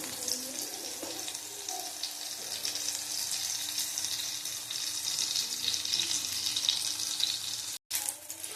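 Eggplant pieces frying crisp in oil, a soft, steady sizzle heard from close by with faint crackles and a brief break near the end, no speech.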